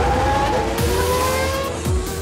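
Red Bull Formula 1 race car at the Red Bull Ring accelerating onto a timed lap, a loud, high-pitched engine wail rising steadily in pitch with brief gear-shift dips, close and continuous.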